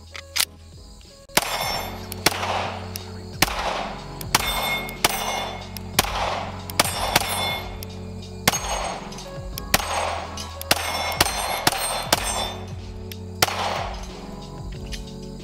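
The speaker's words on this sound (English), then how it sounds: "if you reload your mag hard enough, the slide will automatically close" Sharp metallic clacks from a CZ P10C pistol as magazines are slammed in and the slide snaps forward, a dozen or so crisp, ringing impacts at irregular intervals, close and alone.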